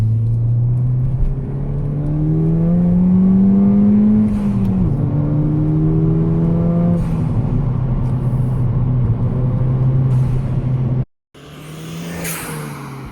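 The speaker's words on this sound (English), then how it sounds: "drop it down to second, we'll try and get some power" A Ford Fiesta ST fitted with a stage 3 Airtec induction kit accelerates hard in second gear, engine note climbing steadily with loud intake whoosh, dipping briefly at a shift, then cutting off before a faint lower idle returns.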